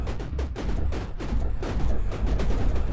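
A magic dagger weapon in the video game 20 Minutes Till Dawn fires continuously at enemies, producing a dense, rapid stream of sharp popping shots that overlap into a steady, loud barrage throughout.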